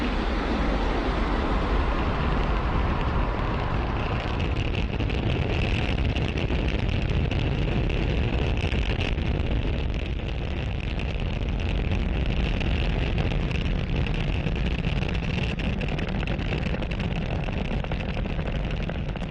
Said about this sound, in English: That incredible view means that Falcon 9 has successfully lifted off from Pad 40